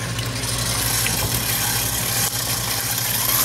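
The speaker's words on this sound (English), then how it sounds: "with the softened butter, you're gonna turn the paddle on and start to cream the butter together" Stand mixer with a paddle attachment creaming softened butter in a bowl, a steady motor hum with faint rhythmic churning, continuous and close.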